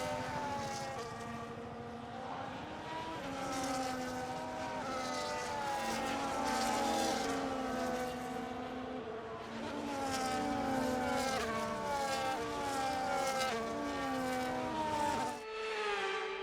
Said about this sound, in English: As the cars make their way back to the starting grid to form up and get ready for lights out